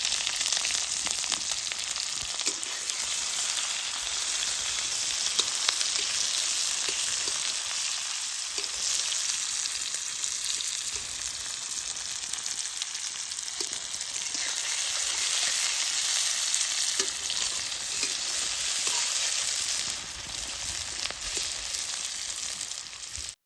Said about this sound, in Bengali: পেঁয়াজ আর মরিচটা তেলে দিয়ে দিই।